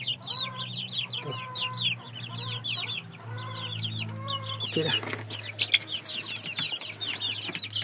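Chickens in a coop, including Red Bourbon fowl, clucking and chattering repeatedly close by, with a few short spoken words mixed in.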